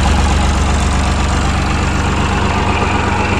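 A Massey Ferguson 135 tractor with a Perkins diesel engine idles close by on a cold day, a loud, steady, throbbing diesel clatter that holds evenly throughout with no talking.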